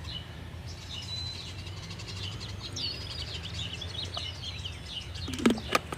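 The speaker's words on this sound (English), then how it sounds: "I almost ran over towards the birds to get them to stop fighting." Faint bird chirps and squawks sound at a distance over a low background hum, ending in a brief louder burst of scuffling calls.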